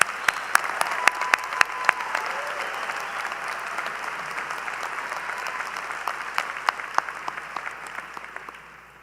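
Steady applause from a commencement ceremony audience for graduating students, a broad sustained wash of clapping with a few sharp nearby claps standing out, tapering off at the end.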